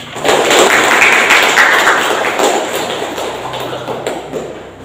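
Classroom applause for a student group during a practice-teaching lesson on procedure texts, a dense wash of many hands clapping at once, loud and steady before slowly thinning toward the end.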